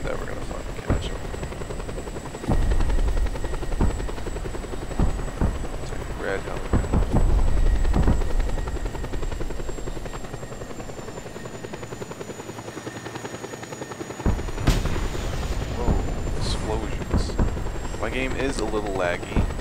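A helicopter in the video game Just Cause 2 Multiplayer drones with a steady, loud rotor whine through the whole stretch, with bursts of gunfire and impacts and people talking over it.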